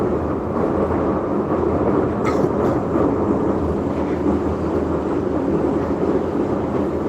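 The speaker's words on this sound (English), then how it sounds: "it's an older train" An older train rolls slowly past, a steady loud low rumble with faint clicking, and a brief higher squeal partway through.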